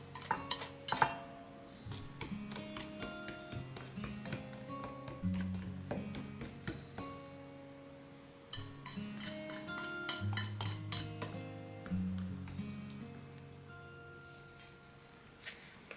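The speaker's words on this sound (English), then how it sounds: "Make tempura flour by adding the cooled mayonnaise water and flour little by little." Tempura batter of mayonnaise water and flour is mixed in a bowl, with repeated clinking of utensil against bowl in irregular bursts, close and moderately quiet, over soft background music.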